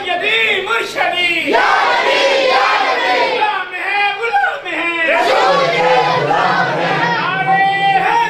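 A large crowd at a naat gathering loudly chants religious slogans in unison, repeated roaring responses that fill the space almost without pause.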